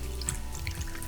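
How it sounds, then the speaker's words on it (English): Water being drained out of an opened tin of whole mackerel, a steady close trickle and splash into a sink, continuous for about a second with no talking. "empty all of this water, well drained"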